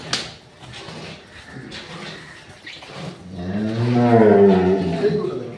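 A dairy cow at a cattle farm lets out a long, loud, drawn-out moo in the second half. Earlier there are softer rustles and some low background voices.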